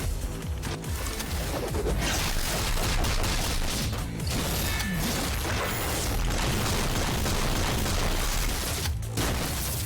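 Bursts of gunfire in Punishing Gray Raven, dense rapid shots and booming impacts crowding together loudly and almost continuously, with heavy combat effects layered throughout.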